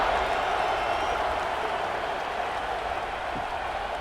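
Steady stadium crowd roar from a College Football 26 simulation of Pittsburgh at Florida State before a third-quarter kickoff, a dense continuous wash of cheering that holds an even level throughout.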